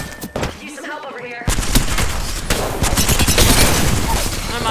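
Rapid gunfire from the Apex Legends video game, dense bursts of shots filling the clip loudly after a brief quieter start, with a voice talking underneath early on.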